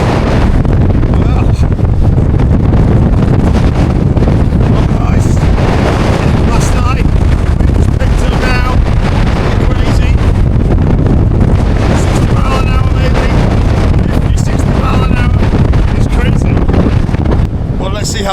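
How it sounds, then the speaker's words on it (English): Strong winter gusts near 45 mph batter a tent on a remote Scottish island, a loud continuous roaring buffet with microphone rumble and flapping surges, steady throughout and close around the listener. "Just listening to the wind outside"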